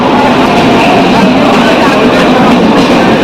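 A train rumbles loudly from inside the moving carriage, a dense, constant roar that fills the whole stretch and drowns out everything else.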